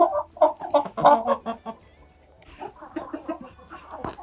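Several hens cluck in bursts close by, a busy run of clucks, a short lull, then more clucking resumes.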